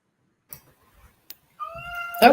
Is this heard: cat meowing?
yes